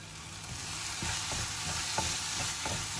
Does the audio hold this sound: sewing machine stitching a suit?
no